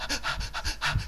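A voice imitates a panting dog, giving quick, rhythmic breathy huffs, about four close bursts in a second, alone and fairly loud.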